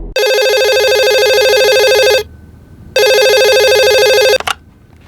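A telephone rings loudly and close, two long electronic ring bursts separated by a short pause, with a faint click at the end and no talking.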